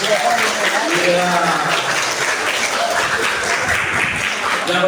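An audience at an Islamic history museum claps continuously, a dense and steady round of applause filling the whole moment.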